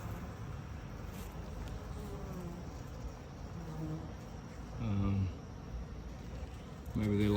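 Bees from a swarm still flying around a wooden spot where they cluster, giving a steady insect buzz throughout with louder passes near about five and seven seconds as individuals fly close, and a voice speaking intermittently.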